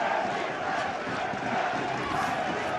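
A rugby stadium crowd at a 2013 European Nations Cup match between Belgium and Georgia gives a steady, broad roar as a Saint-Etienne prop rouses them. Commentary runs faintly beneath the dense wash of voices.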